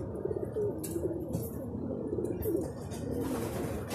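Racing pigeons coo softly in a loft during training, low throaty rolling calls repeating close by over a steady background hum.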